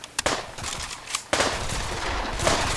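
Automatic weapon fire in the VR shooter Pavlov, a couple of sharp opening shots followed by a sustained, loud spray of rapid gunfire.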